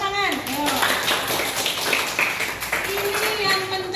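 A group of people claps in a steady round of applause while children's voices chatter over it.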